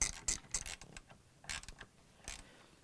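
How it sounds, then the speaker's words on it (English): An 8mm socket wrench ratchets as it tightens screws on an LG washer drive coupling, giving quick bursts of clicking and creaking strokes at close range with short gaps between them, and no talking. "I'm going to use the socket wrench with 8mm head on it."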